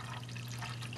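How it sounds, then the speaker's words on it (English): Tap water pouring into containers, a brief steady splashing trickle over a low electrical hum, faint and alone. "I'm going to fill up both of these containers with this water. Straight up tap water, guys."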